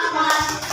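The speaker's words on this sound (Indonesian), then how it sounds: "kita beri tepuk tangan untuk kelompok 5" A classroom group claps for a student team, with a brief burst of hand claps under a faint voice.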